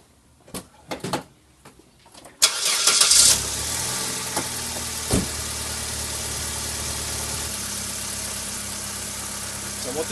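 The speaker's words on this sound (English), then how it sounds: "I'm going to start the engine and we're going to fully prime the system" A Holden Barina SB (Corsa) cranks briefly and catches, then settles into a steady idle that stays loud and close through to the end, with a few faint knocks and clicks after startup.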